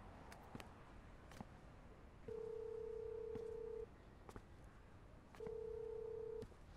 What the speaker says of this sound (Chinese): 我打个电话。